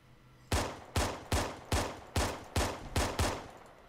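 Eight evenly spaced, loud gunshots ring out in steady rhythm from a weapon in the Arma 3 Halo mod video game, each with a short decaying tail, with no talk.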